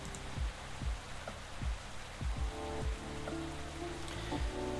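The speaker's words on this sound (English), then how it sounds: "And this time it's actually rain sounds." Rain in the video game Coffee Talk 2: a steady wash of rainfall on surfaces, with a recurring low thumping beat underneath at roughly even intervals. No one speaks.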